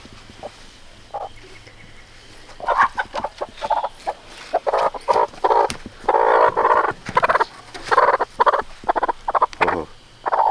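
Chickadee the hen calls repeatedly from inside a backyard coop at dusk, loud close clucks and squawks in irregular bursts, alone with no talk.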